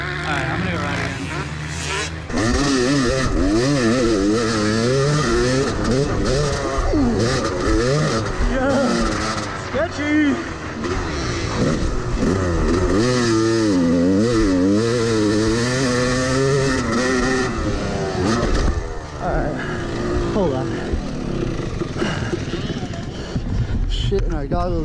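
Motocross motorcycles riding at Prairie City MX track, with a loud, continuous engine whine rising and falling as the throttle is worked, close to the microphone with wind buffeting, and a voice speaking over it.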